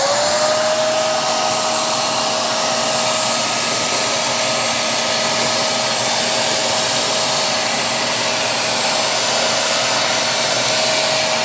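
Shark MessMaster VS101 portable wet/dry vacuum running with its carpet tool on a messy floor, a loud, steady whine with a constant motor tone held throughout, close and alone with no talking.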